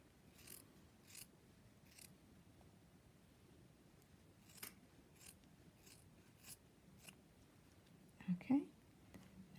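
Quiet, intermittent snips of scissors cutting around the stitch line of an embroidered in-the-hoop mouse toy, a few short separate cuts with a soft voice near the end.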